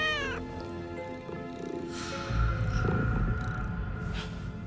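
A cat meows loudly and close at the start with drawn-out harmonic cries, then further yowls sound over a low rumbling background in a French vampire babysitter TV episode scene.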